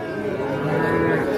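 A calf at the Ambari cattle haat lets out one sustained, close, drawn-out moo amid the low murmur of a busy livestock market.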